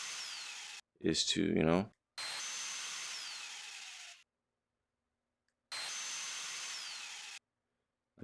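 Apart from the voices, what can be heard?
torque wrench running on lug nuts in video game WRENCH VR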